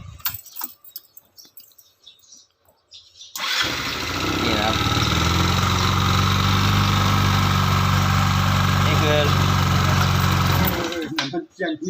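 A Yamaha Mio 125 scooter engine with a hard-starting fault cranks briefly, catches, and settles into a steady, loud, close idle, with handling noises before it starts.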